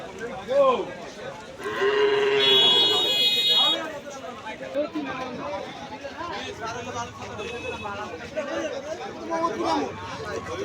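Cows at a village cattle market (haat) in Hazratpur before Qurbani moo loudly and repeatedly over crowd chatter and nearby talk.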